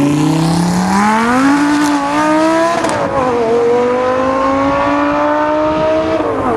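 A 2009 Audi R8 with a naturally aspirated 5.2-litre V10, rated 552 hp and revving to 8700 rpm, climbs loudly through its revs and then settles into a sustained high howl, close and alone with no talk.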